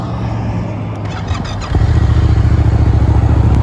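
A 2017 Yamaha XSR 700 motorcycle fires up close by and settles into a loud, steady, throbbing idle after a brief cranking moment.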